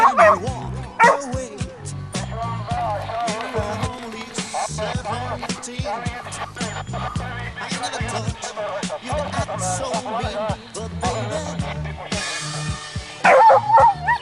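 Several hunting dogs on a wild boar hunt in Turkey bark and yip excitedly in quick, overlapping bursts, with whimpers mixed in and occasional voices nearby.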